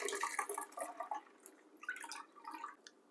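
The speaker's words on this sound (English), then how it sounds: "I'm using 2 strainers to get rid of the excess particles from the sorrel petal." Sorrel drink poured through two stacked strainers, liquid trickling and splashing faintly into a jug with soft, uneven dripping and small bursts of flow, close by and quiet.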